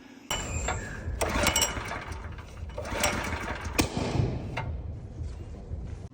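A small Honda engine sputters and runs roughly, with several sharp popping backfires breaking through the uneven chugging; no talking.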